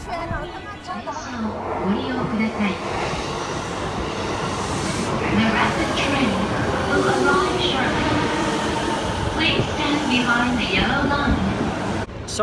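A train in Tokyo rumbles along with steady rolling rail noise and rattling, while voices talk throughout over the din.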